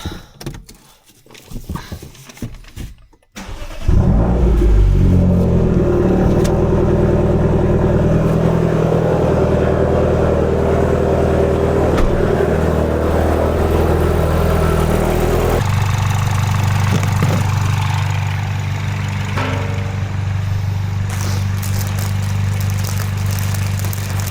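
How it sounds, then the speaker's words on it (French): A car with a THP petrol engine cranks and fires up after a few quiet seconds, then runs at a loud, steady idle up close, its note settling lower partway through. "Petit coup de démarrage"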